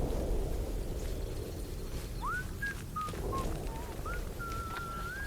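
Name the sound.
people whistling in the video game Atomfall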